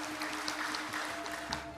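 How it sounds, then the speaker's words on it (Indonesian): Faint, distant applause from a crowd at a scientific address by the Governor of Bali, a steady soft patter of many hands under a hall's low hum. "Tepuk tangan untuk universitas terbuka"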